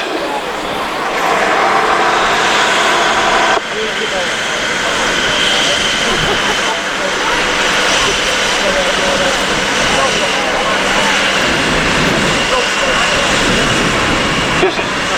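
A Scammell six-wheel-drive truck with a 19.1-litre engine runs at a vintage vehicle show, its loud, close, continuous engine roar dominating throughout while someone talks over it.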